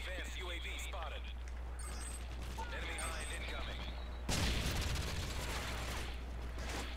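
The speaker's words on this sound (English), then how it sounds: "It's like an all-out gunfight." Call of Duty Modern Warfare 3 multiplayer gunfight: rapid rattling bursts of automatic gunfire and clattering weapon mechanisms, with a louder, denser stretch of shooting partway through, heard under a voice talking throughout.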